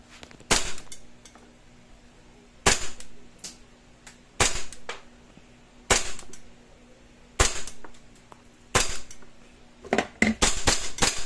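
An E&C Hi-Capa airsoft pistol fires about a dozen sharp, snappy cracks at uneven intervals, single shots then a quicker cluster at the end, close by with no talking.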